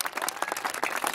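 A short burst of steady audience clapping at an ESPN Hall of Fans induction ceremony, many hands at a moderate distance, with no talking.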